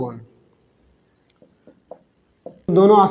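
Writing during a math lesson: a few faint, short scratches of a pen or chalk tapping and stroking in a quiet room, close, before a teacher's voice begins speaking.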